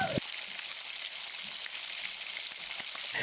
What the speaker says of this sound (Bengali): সাথে আগে থেকে কুচি করে কেটে রাখা লঙ্কা পেঁয়াজ হালকা ব্রাউন কালার অবধি ভেজে নেব